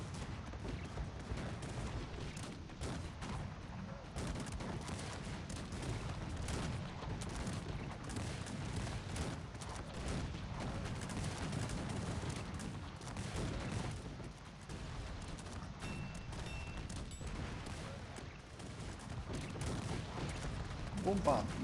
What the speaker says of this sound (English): Bombardment is fierce now.